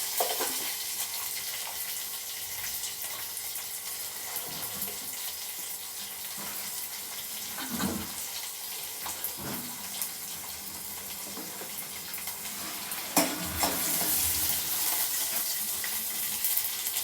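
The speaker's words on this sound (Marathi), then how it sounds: "जिरे तडतडले की" Cumin and mustard seeds spluttering in hot oil for a tempering, a constant crackling sizzle with scattered sharper pops and spatters, close and steady throughout.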